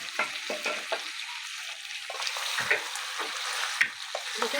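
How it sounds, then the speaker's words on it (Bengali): Mutton kosha fries in a pot while a spoon stirs it, giving a steady close sizzle broken by soft scraping strokes and small pops. "ঠিক এমন করে 45 মিনিট ধরে কষিয়ে নেবো।"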